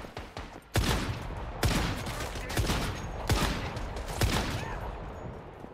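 Gunfire in the survival shooter Once Human, with about five sharp bursts of shots spaced roughly a second apart over rumbling game ambience.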